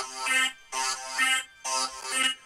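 A bright, buzzy synth lead patch made in NI Massive plays three short, punchy chord stabs with pauses between them, clear and alone.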